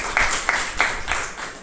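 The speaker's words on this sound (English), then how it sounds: "Let's a round of applause for Toastmaster Adit." A few sharp, evenly spaced claps, about four in quick succession, greeting Toastmaster Adit at a Toastmasters club meeting, close and moderately loud.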